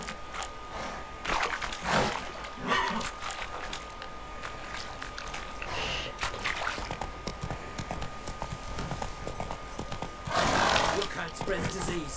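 Roach the horse in The Witcher 3 gallops with rhythmic hoofbeats and neighs loudly several times, mixed with game effects and voices talking.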